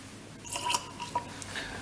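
Iodine solution drips from a pipette onto rice grains, giving a couple of faint, brief wet taps in near silence.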